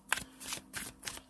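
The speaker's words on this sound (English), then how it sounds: "I've been shuffling" Tarot cards being shuffled by hand in a steady rhythm of four soft riffling bursts, close and quiet, with no talk.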